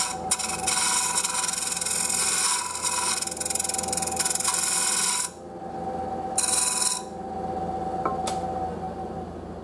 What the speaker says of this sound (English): The bowl gouge again takes off a lot of wood because these wings are aggressive and very sharp.